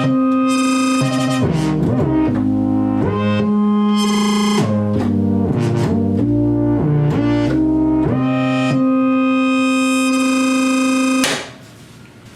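Synthesizer part bent with the pitch wheel and modulated by an aftertouch LFO, a loud, buzzy, harmonically rich tone with gliding pitch dips and wobbles, sustained for about eleven seconds before cutting off.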